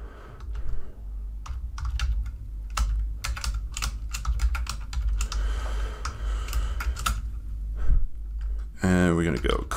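Steady clicking of computer keyboard keys as code is typed, irregular bursts of keystrokes close by, with someone talking over much of it.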